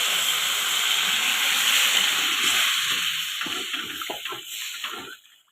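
Rice batter poured into hot oil in a pan for a banana-stem ghonto, giving a loud steady hiss that slowly thins and breaks into crackles before fading out at the end.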